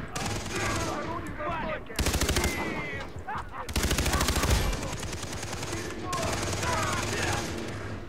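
Bursts of automatic gunfire from a co-op session of the video game Far Cry 3, loud rapid volleys in several separate bursts with players talking between them.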